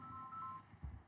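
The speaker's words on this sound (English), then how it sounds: "Excuse me, that's my phone." A mobile phone rings briefly and faintly during a formal resource consent hearing, giving a thin electronic tone for about half a second before a low muffled thump, with no talking.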